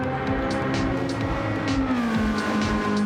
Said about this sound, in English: That does not sound like a Citroen at all. That sounds like a Formula 1 car.